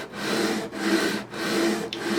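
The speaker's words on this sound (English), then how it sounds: "Let the sandpaper do the work. Well, this is emery board." An emery board is drawn back and forth over the frets of a Yamaha F310 acoustic guitar, giving a steady, close, raspy rubbing in long strokes with brief pauses between passes.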